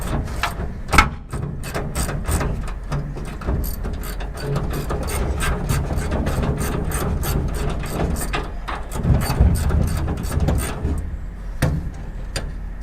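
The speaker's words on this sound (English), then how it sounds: "Bolts are 3/8/16, by the way. Pretty big for holding the radiator in." Rapid ratchet clicking in repeated bursts as large 3/8-16 radiator bolts are backed out on a 1971 Dodge D700 ramp truck, close up with shop background noise and no talking.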